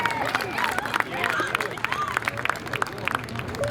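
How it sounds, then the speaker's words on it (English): Crowd applause and cheering at a Seekonk Speedway late model race for the feature winner, dense clapping under chatter and whistles, with a voice talking over it. "How about a round of applause for our late model feature winner?"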